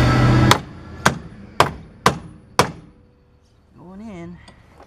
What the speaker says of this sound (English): Really hard to hammer, but way